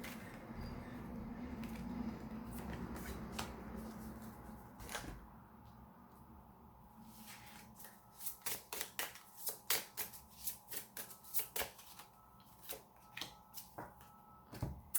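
Tarot cards being shuffled and drawn, a soft papery riffle at first, then a quick series of close, crisp card snaps and flicks, quiet and alone.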